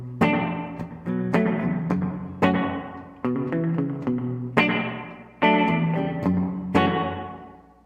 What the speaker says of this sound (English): So this is a basic